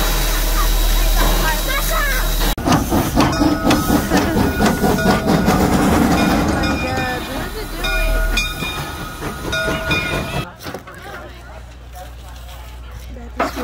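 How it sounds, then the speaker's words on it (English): Hocking Valley steam train ride, with loud rolling rail noise and rhythmic clattering from the cars, a whistle sounding partway through, and voices talking throughout before the sound drops away near the end. "Steam train!"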